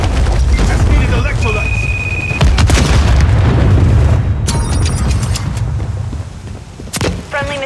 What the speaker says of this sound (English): Friendly cruise missile approaching target. Friendly cruise missile deployed.